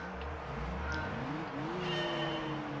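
Daihatsu Sirion engine in Gran Turismo 3 revving up in a rising whine, a thin, fairly quiet tone climbing over about a second and then holding steady.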